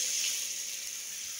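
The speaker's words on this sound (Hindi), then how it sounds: "इसमें थोड़ा सा पानी डालेंगे," A steady stream of water pours and splashes into a pan, a continuous hissy rush with no talking.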